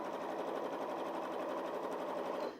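A Janome 5270QDC sewing machine runs flat out at top speed, a continuous close, dense, rapid needle chatter and motor whir that holds steady before cutting off abruptly at the end.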